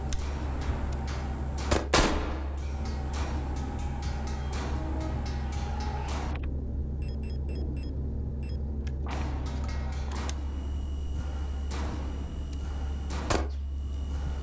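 Rapid gunfire in the video game Signalis crackles over a steady low electronic hum, with sharp single shots and a quick burst of rapid fire in the middle.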